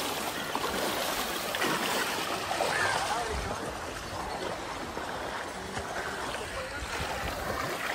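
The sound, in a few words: flood water flowing at Sathankulam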